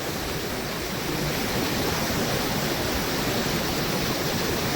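Fast-flowing mountain river on the Pindari Glacier trail in Kumaon, heard near a hanging bridge; a loud, continuous, even roar of rushing water with no pauses and no voices.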